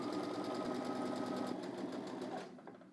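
A sewing machine runs steadily, stitching along a pant pocket for baggy trousers, its fast even hum continuing close and loud for over two seconds before slowing and stopping.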